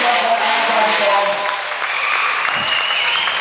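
Loud applause from a crowd at a European Bike Week motorcycle gathering at Faaker See, steady clapping with scattered cheers filling the whole stretch, a few voices audible within it.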